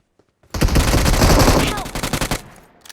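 Rapid automatic gunfire from the battle game BGMI bursts in loud and close, a sustained rattling stream that breaks into shorter stuttering bursts before dying away.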